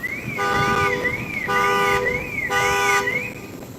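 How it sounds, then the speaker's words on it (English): A car alarm sounding outdoors, a loud siren that sweeps up and down in repeating cycles, cutting in and out in bursts over steady street background noise. "That's the second alarm that's going off."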